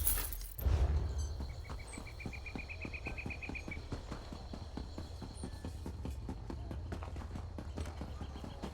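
Steady hoof clip-clops beat a quick rhythm, with a brief thump near the start and a faint tonal chirping in the background.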